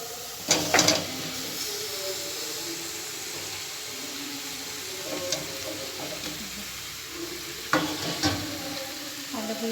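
Potatoes being stirred into a spicy paste for Bengali aloo dum, frying with a steady soft sizzle, with louder scraping stirs near the start, middle and end.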